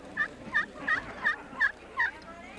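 A friction turkey call made of slate over aluminum and glass imitates a hen turkey with six evenly spaced raspy yelps, close and clear, no talking over them.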